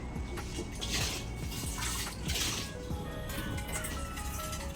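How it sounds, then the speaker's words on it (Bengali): Water pours steadily into a pot of lentils, a close, continuous splashing rush that lasts throughout with faint clatter mixed in. "এবার তাহলে জল দিই।"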